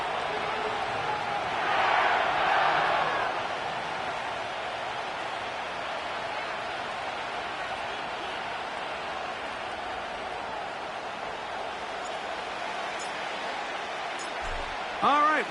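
Stadium crowd at SoFi Stadium in Inglewood in Madden NFL, a broad distant roar that swells briefly early then settles into a steady murmur under a commentator's talk.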